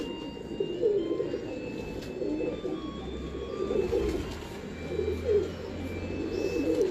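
Pigeons coo in a steady, repeated low murmur of throaty calls that overlap, close by, against a background of faint ambient noise and occasional light chirps.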